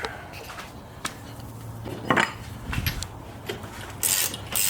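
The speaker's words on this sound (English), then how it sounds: "we're just going to give it some light taps" Light hammer taps on a 15/16 nut on a 1983 Honda Goldwing motorcycle, a handful of sharp, close metallic clinks spaced irregularly over a quiet workshop background.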